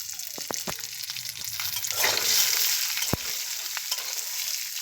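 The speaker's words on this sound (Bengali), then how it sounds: "প্রথমে বাদামগুলো ভেজে নেব।" Peanuts sizzle and crackle as they fry in a kadai, a steady hiss broken by sharp scraping knocks of the stirring spoon, and the frying swells briefly midway.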